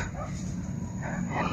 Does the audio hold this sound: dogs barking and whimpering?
yes